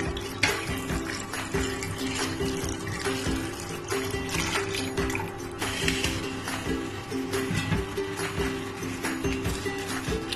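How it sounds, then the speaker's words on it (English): Water pours into a pot of Nigerian uha soup with scotch bonnet pepper and seasoning, a continuous splashing trickle that runs steadily for several seconds, close by and without speech. "I'll now go ahead and add more water to this."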